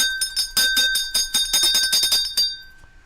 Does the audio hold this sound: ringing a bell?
yes